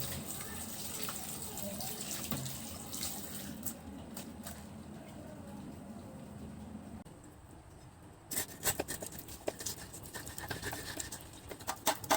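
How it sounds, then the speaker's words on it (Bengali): Pangas fish being washed under a running kitchen tap, a steady close rush of water with scrubbing and handling noises, then sharper splashes and clatters toward the end. "মাছগুলো সুন্দর করে আগে একটু ধুয়ে নিই"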